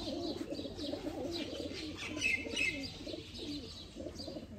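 A breeder pair of champion pigeons coos steadily and softly, close by, with a few higher chirps mixed into the cooing throughout. No one speaks.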